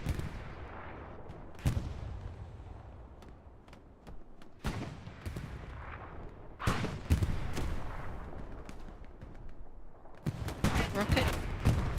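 Artillery barrage on the Omaha map in Hell Let Loose, a WWII shooter: a series of heavy, sharp blasts land irregularly over several seconds, some clustered closely together, with a voice talking between impacts.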